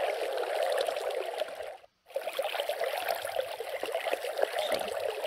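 Steady flowing water in Minecraft, a continuous broadband trickle and rush at moderate level with a brief silent gap near the two-second mark.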